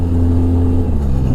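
Steady engine drone from a 2014 Polaris RZR 800 EPS side-by-side, loud and close with a constant low rumble and little change in pitch, running alone without voices.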